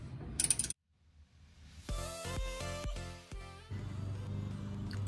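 A hand ratchet snugs nuts on air bag brackets at a truck's leaf spring, fitted for hauling a camper: a quick run of rhythmic metallic clicks after a short burst of noise and a pause, over a steady mechanical background.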